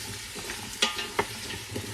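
Tomatoes being stirred and coated in oil as they sauté in an Instant Pot, a steady low sizzle with a couple of sharp utensil clacks against the pot, no talking.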